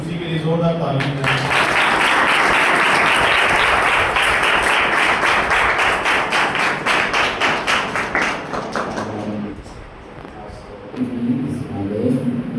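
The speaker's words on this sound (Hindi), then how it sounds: "यीशु मसीह के लिए जोरदार तालियां दें।" A congregation at a church gathering breaks into loud, sustained clapping and applause that fills the room, then fades out near the end as a voice returns.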